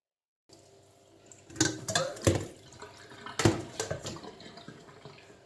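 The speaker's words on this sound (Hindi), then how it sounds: "अब मैं इसमें ये करूँगी कि जो सादा पानी है वो डालूंगी" Plain water poured over strained, freshly curdled paneer for rasgulla, splashing and trickling in a few bursts with dripping between, close by and moderately loud, no talk.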